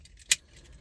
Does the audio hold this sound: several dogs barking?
no